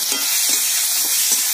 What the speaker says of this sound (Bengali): আমি ওই তেলের মধ্যে দিয়ে দিলাম গোটা জিরে, দিয়ে দিলাম টমেটো কুচি